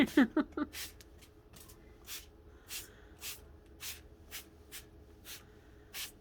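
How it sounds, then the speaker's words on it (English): A spray bottle spritzes repeatedly in short, evenly spaced bursts, close and crisp, with a few quick handling sounds at the start. "Got a nice little spritz of water there"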